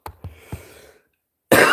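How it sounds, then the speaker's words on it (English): Three quick, dry coughs in a row, followed by a short silence and then a burst of loud noise. "I just can't stop coughing"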